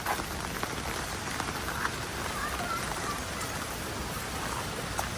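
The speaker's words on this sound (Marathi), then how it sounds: "एवढा पाऊस पडतोय तरी क्राऊड काय कमी होत नाही" Heavy monsoon rain pours steadily at a crowded waterfall viewpoint, a dense, even hiss of drops on surfaces with no letup.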